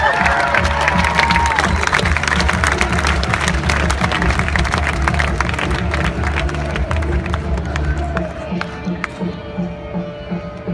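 A live concert crowd at Riot Fest Chicago, an outdoor music festival, claps and cheers loudly and continuously, with shouts and whistles over a dense wall of applause that slowly thins toward the end.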